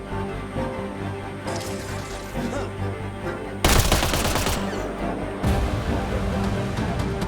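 Rifle fire in the sci-fi shooter Mass Effect Andromeda on the planet Eos, with a dense burst of shots in the middle and more shots toward the end over steady game background sound.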